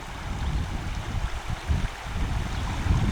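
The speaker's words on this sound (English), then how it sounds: "I don't know if y'all can hear the water streaming" A creek streams outdoors with a soft, continuous low rushing and burbling, steady and moderately distant with no voices.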